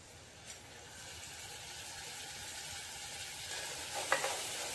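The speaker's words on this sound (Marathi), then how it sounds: "आता आपण 2 चमचे शेजवान चटणी टाकू" Schezwan chutney is stirred into masala Maggi noodles frying in butter in a pan, giving a steady close sizzle with light scraping stirs and a brief clink near the end, with no voices.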